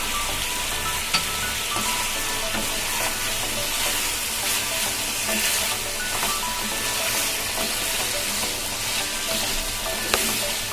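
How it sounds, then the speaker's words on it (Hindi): Mutton and potato pieces fry in a pan over a medium flame, giving a steady, dense sizzle with occasional stirring scrapes and a couple of sharper clicks, close and continuous throughout with no voices. "मीडियम फ्लेम पे इसे 10 मिनट फ्राई कर लेना है, ताकि आलू भी सख्त हो जाए।"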